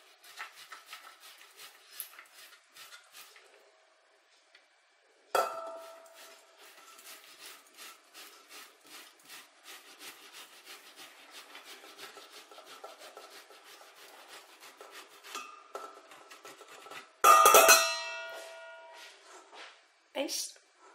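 Boiled, peeled potatoes are rubbed against a grater, giving repeated close rasping strokes in a steady rhythm, with a louder clatter near the end and a few quiet pauses.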